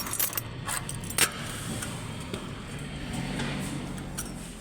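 A bunch of keys jangles and clinks close by as a door is unlocked, in sharp bursts near the start and a few lighter rattles after, over a steady low background hum with no talk.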